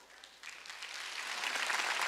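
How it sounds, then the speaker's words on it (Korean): Congregation clapping in a church during a Wednesday worship service, a broad wash of applause that swells steadily louder over about two seconds, with no speech over it. "박수를 쳐."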